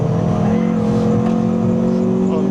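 A Renault Clio 182 engine drones loud and steady at high revs on the Thruxton Circuit racetrack, heard from inside the car with a slight rising pull in pitch.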